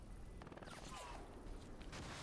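Machine gun fire in a competitive video game match rattles in steady rapid bursts, fairly faint and distant, mixed with background game noise.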